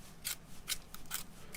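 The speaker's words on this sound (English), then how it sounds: "Grab a pencil sharpener, sharpen up the pencil real quick." A pencil sharpener grinding a pencil for drawing, heard as five short, dry scraping bursts in an even rhythm, close and moderately loud, with no talking.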